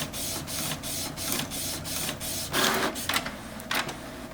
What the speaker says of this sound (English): So that's printing from a memory card on a 4x6 glossy thing.